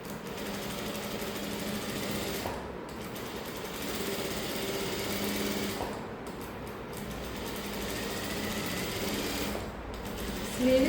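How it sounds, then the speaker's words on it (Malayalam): A sewing machine stitching along a marked line on fabric, a steady, close mechanical whirring and rattling that runs almost without a break, pausing only briefly a few times. "നമ്മൾ അടയാളപ്പെടുത്തിയ ലൈൻ കൂടെ തയ്ക്കുകയാണ്."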